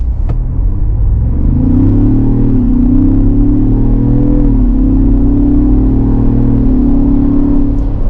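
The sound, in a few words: 2024 Ford Bronco Heritage Limited exhaust while accelerating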